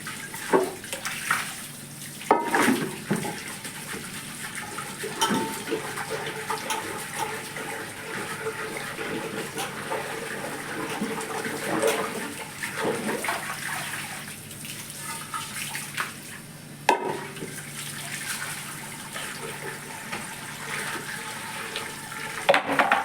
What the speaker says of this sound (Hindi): और अब चलाती हूँ पानी